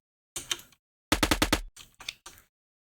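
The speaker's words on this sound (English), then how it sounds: "when you want to take out a gun and just start shooting" An automatic gun fires in a video game shooter prototype, with one short burst, a pause, a tight rapid run of about six shots, then a few more clustered bursts, all crisp and close with silence between.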